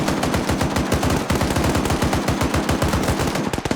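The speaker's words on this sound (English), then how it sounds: "that 50 cal is suppressing the shit out of this position" A .50 cal machine gun in a large multiplayer military game of the US invasion of Panama fires long, fast, unbroken bursts, loud and heavy, with sustained thumping shots throughout.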